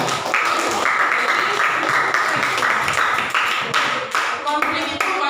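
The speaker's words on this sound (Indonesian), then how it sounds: "Tepuk tangan untuk kita semua." Classroom applause in an Indonesian school lesson, a dense steady patter of many hands clapping close by for several seconds, with chatter mixed in beneath.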